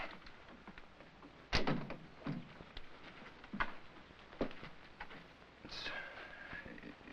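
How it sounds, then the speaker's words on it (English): A door closes in a 1951 film scene, a sharp thud followed by rattling knocks and movement, with rain pattering softly in the background. "Close the door."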